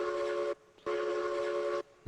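A model train whistle on a Lake Valley layout sounds two steady tonal blasts, a short one and then a longer one, separated by a brief gap, with a clipped third note starting at the end, moderately faint.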